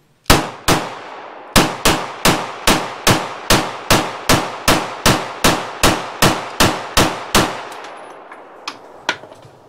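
A Walther PDP pistol fired at a shooting range: about seventeen sharp, loud gunshots in a fast, fairly even string, each ringing briefly, then a couple of faint clicks and clatters after the magazine runs dry.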